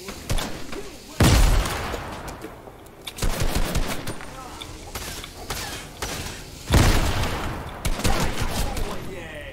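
Sniper and other gunfire in a Fortnite match: several heavy, booming shots with sharp onsets, loud and near, followed by rattling bursts of mixed game noise.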